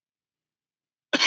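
A single short cough from a guest on an evening show, loud and close, bursting out suddenly after silence at the very end.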